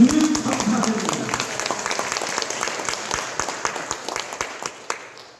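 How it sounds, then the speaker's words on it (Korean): A church congregation claps together, the applause starting strong then tapering into sparse, distinct claps that fade out, with a voice speaking over the start. "우리 예수님께 큰 박수 한번 올려드립니다."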